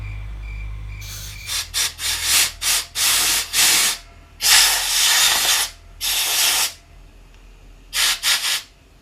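Short bursts of compressed air blast through the holes of a carburetor being cleaned, coming close and loud as about a dozen sharp hisses of varying length, separated by brief quiet gaps.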